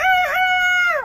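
A single loud rooster crow, close by, with a rising start and a long held note that drops off at the end.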